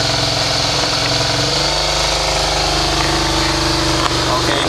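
A Suzuki SV650 motorcycle idles in neutral with a steady, loud engine drone and a faint rhythmic pulse, while someone talks over it.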